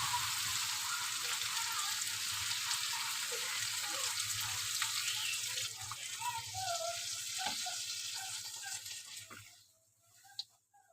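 Water poured into a pan of sizzling curry gives a loud hiss and bubbling that gradually dies down to softer simmering, close up.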